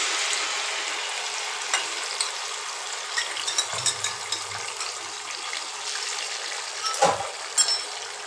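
A paste of ginger, tomato puree, poppy seed, cashew and raisin fries in hot oil in a kadai, giving a steady close sizzle and hiss with a few soft clinks and bubbling bursts.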